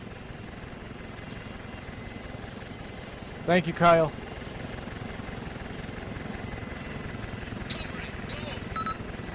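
An Apache attack helicopter's steady rotor drone in a video game fills the background throughout, with a brief spoken line from a voice partway through.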